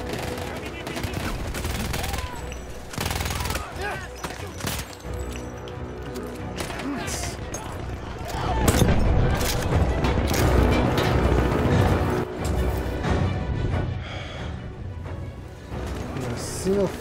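Gunfire in the video game Battlefield 1 erupts in bursts of rapid shots and scattered single cracks, with mechanical clatter between volleys and a louder sustained stretch in the middle, with a voice talking over it at times.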